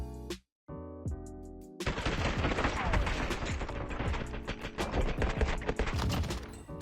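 Rapid automatic gunfire from the video game Warzone rattles loudly and continuously in a sustained burst, close and dense, following a brief opening shot.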